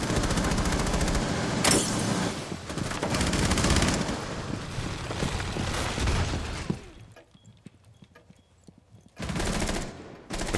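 Rapid automatic gunfire from a first-person shooter game, loud dense bursts with heavy reports for about seven seconds, a quieter gap with scattered shots, then another loud burst near the end.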